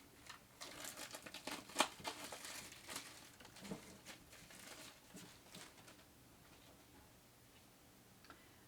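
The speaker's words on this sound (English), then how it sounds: "Of course, I have to unwrap this too." A wrapped package being unwrapped, with soft crinkling, tearing and ticking handling sounds close by in a quiet room. One sharper crackle stands out early on, and the rustling thins out toward the end.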